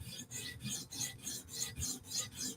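An S110V super-steel knife blade being sharpened at the heel, producing a steady run of about seven rhythmic, close rasping strokes with no talk.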